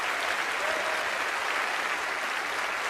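An audience at a Penn & Teller: Fool Us magic show taping gives a round of applause, dense and steady clapping that fills the room evenly at a constant level throughout.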